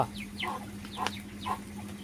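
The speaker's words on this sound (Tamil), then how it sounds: "சேவல் அங்கே இருக்குது" Rooster clucking in a backyard coop during rain, three short clucking calls spaced about half a second apart, moderately close over a steady low hum.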